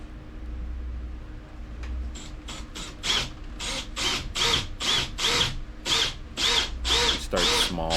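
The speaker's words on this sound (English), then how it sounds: "drill going through the hardtop." A power drill bores through a yacht hardtop in a series of about a dozen short, loud whirring bursts with brief pauses between them, each run rising in pitch, close by and alone.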